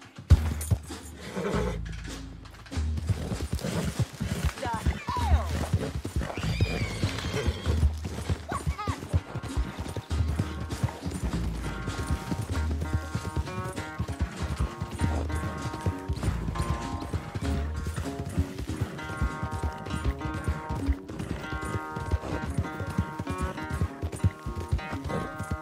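Rhythmic hoofbeats of a horse galloping in Red Dead Redemption 2, steady clip-clop mixed with game music and effects, with occasional brief voices and a whinny.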